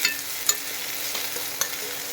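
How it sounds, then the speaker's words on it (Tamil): Onions fry in hot oil for Maggi noodles, sizzling steadily with a bright crackling hiss, punctuated by a few sharp clinks of a utensil against the pan. "எண்ணெய் நல்லா கொதிக்கும் போது வெங்காயத்தை போட போகிறோம்."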